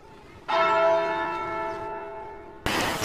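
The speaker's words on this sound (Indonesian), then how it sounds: "diperlihatkan sebuah gedung atau bangunan dengan suara bunyi jam pada bangunan tersebut" A building's clock bell in a film strikes once with a bright, ringing tone that sustains and slowly decays, then a sudden broadband burst of noise cuts in at the end.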